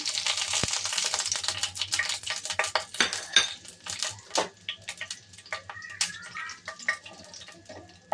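Whole spices for chicken curry (cloves, cracked cardamom and bay leaves) are tipped into a hot pan, giving a quick clatter of utensil and metal followed by light crackling sizzle and scattered clinks.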